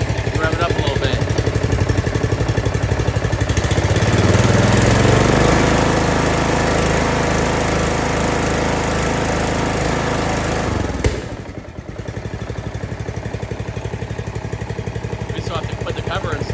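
A Briggs & Stratton engine on a Husqvarna RZ4621 riding mower runs loud and close, rising as it is revved, then dropping briefly before settling back to a steady rumbling run.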